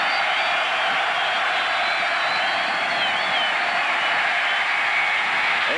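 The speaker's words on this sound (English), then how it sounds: "Crowd coming up." Dense roar of a 1987 college football stadium crowd against Arizona State, a steady wash of cheering and noise holding loud throughout without breaks.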